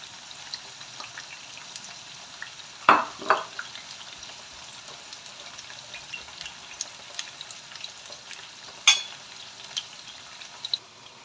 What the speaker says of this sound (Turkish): Kabaklarım kızarırken de şimdi